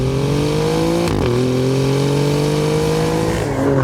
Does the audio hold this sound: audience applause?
no